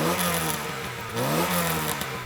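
A 1.6 litre 16-valve classic Volkswagen Golf GTI engine revving with windows down, the pitch rising and falling through two blips, loud and close with no talk.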